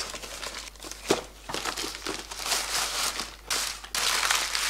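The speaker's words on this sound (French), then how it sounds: "on déballe le colis et puis on va voir ce qu'on a reçu" Cardboard and plastic packaging crinkle and rustle up close as a parcel holding a GTX 960 graphics card is opened, with irregular crumpling and tearing bursts and no talking.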